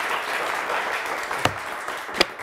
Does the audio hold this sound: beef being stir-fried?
no